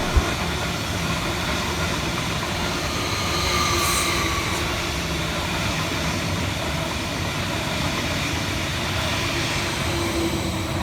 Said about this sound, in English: Passing next fast through the station for Greater Anglia is 745-103